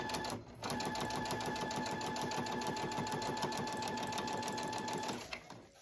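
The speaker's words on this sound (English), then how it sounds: "you're going to sew till you get to that point" A sewing machine stitches an elastic casing on a cloth diaper in one continuous fast rhythmic run of several seconds, starting after a brief pause and stopping abruptly near the end, close and clear.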